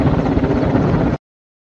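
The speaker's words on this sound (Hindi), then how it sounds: "अब वायुसेना के 2 हेलीकॉप्टर आग बुझाने के काम में जुट गए हैं" Two Indian Air Force helicopters fight the 2021 Uttarakhand forest fire, one drawing water from Tehri lake. A loud, steady rotor and engine roar lasts about a second before cutting off abruptly, with no talk.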